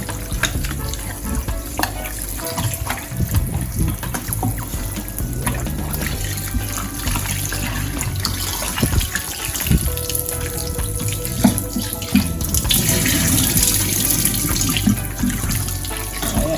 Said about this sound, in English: Wash your meat properly.